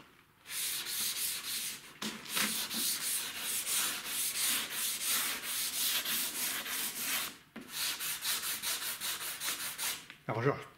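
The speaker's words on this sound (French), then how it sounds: "il faut poncer l'après que tu viens de passer" Wet sanding of car body primer on a Mini, heard as close, rhythmic scrubbing strokes in repeated bursts, with a short pause midway and a louder knock right at the end.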